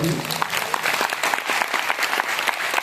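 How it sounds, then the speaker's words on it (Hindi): A networking seminar crowd claps hard on request, a loud, dense and sustained burst of applause from many hands, with a voice briefly audible at the start. "एक बार जम के ताली बजा लो"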